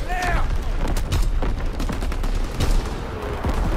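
Artillery barrage in the Call of Duty WW2 video game, with dense, rapid bursts of heavy blasts and gunfire overlapping throughout, loud and continuous, with a voice briefly audible at the start.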